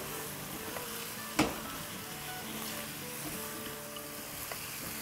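Minced keema for burgers sizzles in a pan as a spoon stirs it, a constant close hiss with one sharp scrape of the spoon and light crackles throughout, no voices.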